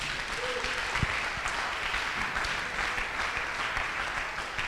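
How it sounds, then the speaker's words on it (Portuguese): A church congregation claps for Jesus in a sustained, even round of applause that fills the room without a break, with no voices rising above it. "Dê uma salva de palmas para Jesus"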